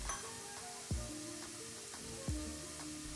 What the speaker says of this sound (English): For deep frying, there's plenty of oil, and so you don't need to do any flipping, you just monitor it in the oil itself.